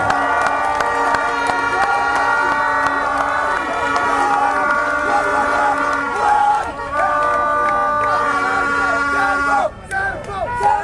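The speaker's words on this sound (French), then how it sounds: "Applaudissez Adama Ben Diarra fortement" A big rally crowd in Bamako cheers loudly for Adama Ben Diarra, with steady blaring horn tones running through the roar and shouting voices mixed in, all close and intense.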